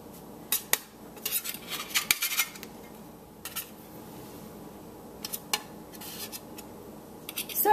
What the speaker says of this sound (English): I'm thinking this spatula and fork might work pretty well. I'm just going to flip them over like that.